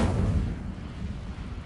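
The Incendio fire spell is cast in the Hogwarts Legacy video game, giving a short, deep, booming whoosh of flame that swells at once and then fades over a second or so, with no talking.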